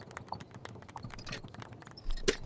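Horse hooves clip-clop on a golf course, a short run of soft, fairly faint steps under a low background murmur, with one brighter knock near the end.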